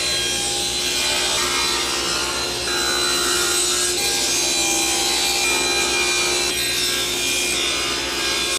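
Wood project panel being sawn into shelf pieces, a loud continuous power-saw roar with a raspy cutting edge, close and steady throughout without a break.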